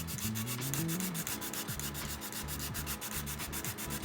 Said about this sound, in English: Literally have like 30 seconds of sanding.